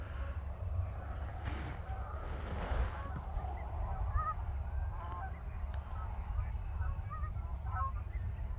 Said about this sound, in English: I do hear a bunch of Canadian geese honking in this direction